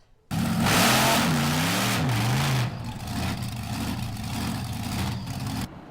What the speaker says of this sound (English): No, it's a monster truck.